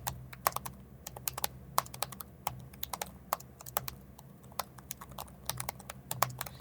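Key clicks from an HP Pavilion 14 Plus laptop keyboard, typed in a steady uneven patter of sharp, fairly loud taps picked up by the built-in top mic, with a low hum beneath and no talking.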